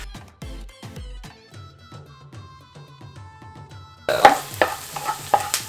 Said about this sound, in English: I'm just gonna saute these for about 4 minutes.